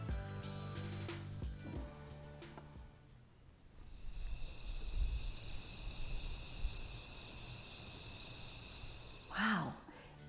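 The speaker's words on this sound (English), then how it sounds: "it's the sound of crickets at night." After a low murmur, rhythmic high-pitched cricket chirps pulse steadily in regular bursts, fairly clear against quiet night ambience.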